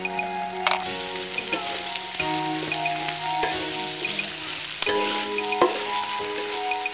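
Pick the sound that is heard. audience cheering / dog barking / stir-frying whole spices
stir-frying whole spices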